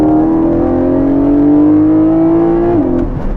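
Porsche 718 Cayman engine pulling hard under throttle with a steady rising tone, loud and close from inside the cabin, ending with a gear change near the end, no talk.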